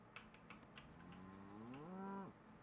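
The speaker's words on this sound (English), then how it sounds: "That is a cow." A cow in the Kingdom Come: Deliverance II video game gives a single drawn-out moo that rises and then cuts off, sounding faint and somewhat distant, with soft background ambience and no talking.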